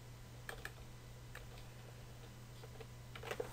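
Someone types a web address on a computer keyboard: a few faint, sparse key clicks in small clusters over a low, steady hum.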